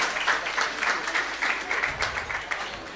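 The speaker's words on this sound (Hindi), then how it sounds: "जोरदार तालियां इनके सम्मान में सभी लोग बजा दें" Loud applause from an audience at a Jain religious gathering, honouring a donor's announcement; steady dense clapping fills the whole stretch with some voices mixed in.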